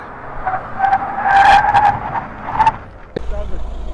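An Opel Grandland on 35 psi tyres brakes hard on a test track, with a squeal of tyres rising and fading over about two seconds, followed by a low thump and steady rumble as the car stops.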